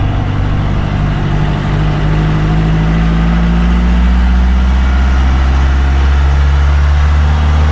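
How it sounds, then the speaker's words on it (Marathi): A vehicle engine runs in second gear, giving a loud, steady low drone with slowly rising and falling tonal bands, close and continuous with no pauses. "आता 2nd गिअरमध्ये आपली गाडी चालू आहे."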